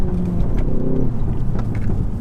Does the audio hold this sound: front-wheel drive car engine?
yes